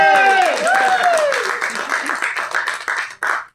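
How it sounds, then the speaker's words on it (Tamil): Audience applause rises under a talking voice, with scattered claps continuing as the speech trails off and breaks. "தயவு செஞ்சு நீங்களே ஒரு தடவை கைத்தட்டுங்க"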